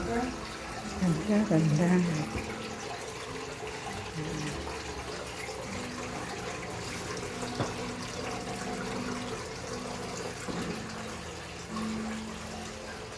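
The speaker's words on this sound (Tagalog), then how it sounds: "Magugas ng plato." Dishes being washed under a running tap, with a steady wash of flowing water throughout and brief clatter near the start, while people talk over it.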